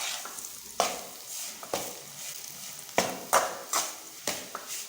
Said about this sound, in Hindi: यहाँ पर हमने आधा कप घी और डाल दिया है और इसे हम मिक्स कर लेंगे।